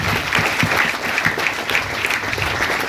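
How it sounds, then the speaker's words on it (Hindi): Audience applause for Mahendra ji at an AWPL success event, a dense, steady ovation of many hands clapping with no break, loud and sustained throughout. "महेंद्र जी के लिए भी जबरदस्त तालियां होनी चाहिए"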